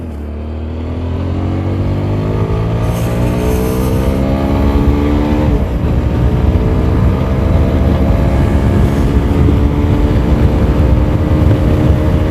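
A motorcycle engine warms up on a winter morning ride, idling and revving loud and close without a break. Its pitch climbs and settles as the throttle changes.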